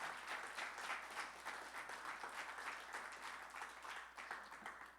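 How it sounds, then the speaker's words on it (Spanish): Church congregation applauding together during a worship service, a steady dense wash of clapping that holds at even loudness from start to finish with no voices over it. "Denle un aplauso al Señor fuerte"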